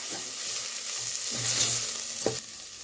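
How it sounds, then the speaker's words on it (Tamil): Spices (chilli powder, turmeric, coriander powder and garam masala) being stirred in a hot frying pan for a soya bean curry, with a steady sizzle and a few soft scraping strokes, close by and alone without talk. "இப்போ நல்லா மிக்ஸ் பண்ணிக்கலாம்"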